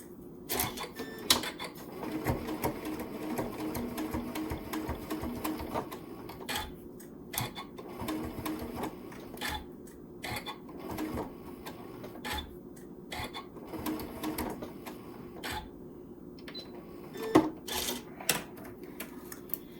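A sewing machine stitches a small fabric strawberry in quick clattering runs, stopping and starting several times with brief pauses and a few sharp clicks.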